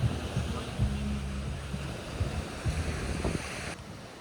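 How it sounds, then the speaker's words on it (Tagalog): Strong ocean waves wash and rumble at a beach in a steady broadband roar mixed with wind noise, while a person speaks over it nearby. "Medyo malakas ang alon ngayong araw."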